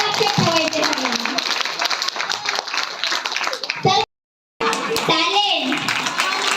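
Audience clapping rings out at a joint birth anniversary celebration for Shivaji Maharaj, Mahatma Phule and Dr. Babasaheb Ambedkar, brisk and close, with children's voices talking over it and a brief dropout partway through.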